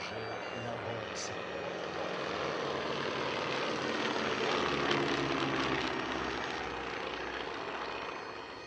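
An Avro Anson Mk.I, a 1930s twin piston-engine aircraft, flying a display at La Ferté-Alais air show: a sustained propeller engine drone that swells and fades gradually as it passes, with a voice commentating over it.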